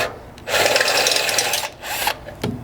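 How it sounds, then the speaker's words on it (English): Right-angle drill with a step bit boring a hole during a rock slider install on a third-generation Toyota 4Runner, two loud grinding bursts of cutting, the first longer, separated by a brief pause, close up. "we're going to be using our right angle drill with a step bit"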